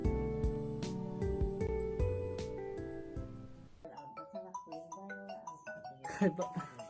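A phone ringtone plays a bright electronic melody of repeated chiming notes, loud and close, then shifts to a lighter tinkling tune.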